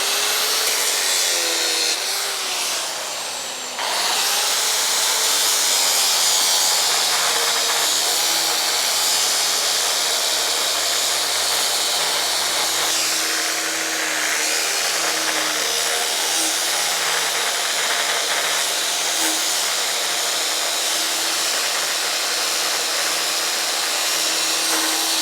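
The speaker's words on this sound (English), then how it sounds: "I'm going to grind the top of the rod off." An angle grinder cuts down the top of a threaded steel rod on a pile base for a 3x3 m garden room, a loud continuous high-pitched whine with a short dip near the start, then steady grinding to the end.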